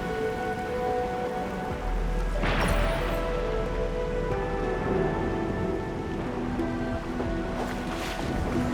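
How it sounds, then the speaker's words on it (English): Heavy rain in Arknights Endfield, a steady dense downpour hissing on surfaces with constant patter, a low rumble and faint tonal game music beneath, unbroken throughout. "It's raining harder. I can't hear anything except for the rain."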